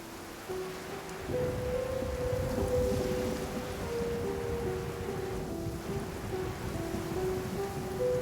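Heavy downpour and rolling thunder from a video game's story quest, a steady dense rain roar with low rumbling swells; a sustained tonal music bed sits over the storm throughout.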